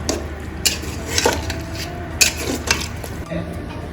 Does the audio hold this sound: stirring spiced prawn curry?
yes